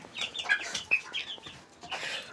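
Turkeys and other poultry cluck and chirp in a farmyard, with bursts of close, bright clucks and calls overlapping continuously throughout.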